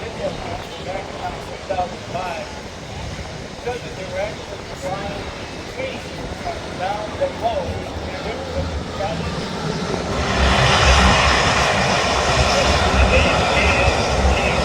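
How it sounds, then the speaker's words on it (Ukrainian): A military cargo plane lands at an air show in Cleveland. A distant engine hum builds into a loud, broad roar over the last few seconds, while someone talks through the earlier part. "Приземлився грузовий літак."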